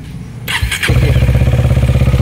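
A KTM Duke 250 motorcycle is started: a short electric starter whine, then the engine catches and settles into a loud, steady idle nearby.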